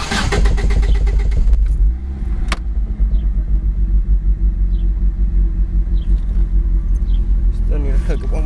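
A Bold Eagle Talon AWD cranks and fires, bursting into a loud throbbing rumble, then settles into a steady, slightly lumpy idle up close while a person talks faintly over it.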